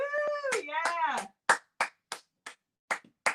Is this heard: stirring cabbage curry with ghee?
no